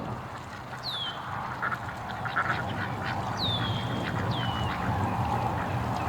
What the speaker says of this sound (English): The ducks having fun, cleaning themselves up.